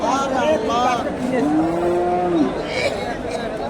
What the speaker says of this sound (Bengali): এখানে সুন্দর একটা গাভী আছে